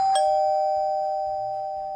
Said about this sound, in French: Il y a une sonnette, on peut sonner.